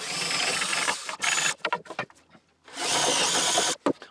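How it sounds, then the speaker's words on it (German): A power drill bores a hole into a wooden picture frame joint. Two loud bursts of whirring drilling come close by, with brief clicks and tool handling in the short gap between them, and no talk. "Und damit haben wir dann da auch das Loch drin."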